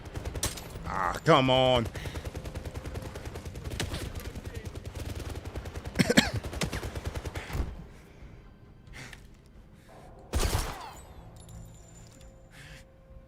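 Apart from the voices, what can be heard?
gunfire in the video game First Light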